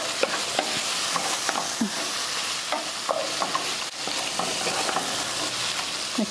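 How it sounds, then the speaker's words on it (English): Tomato and lamb stirred together in a hot pan for a curry, a steady sizzle under repeated scraping spoon strokes, close and fairly loud throughout with no talk. "Stir that in. We add the meat back in."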